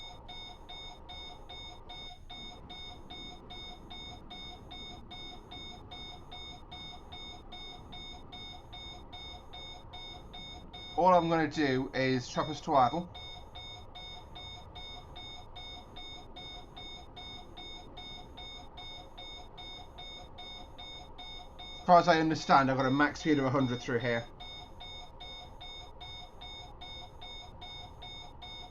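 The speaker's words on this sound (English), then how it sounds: "So you got the alarm. Sounds for Sifa." The SIFA driver-vigilance alarm in the train simulator game Train Planet sounds twice, each a loud repeating electronic beep lasting about two seconds, spaced roughly ten seconds apart over a quiet cab hum while someone talks.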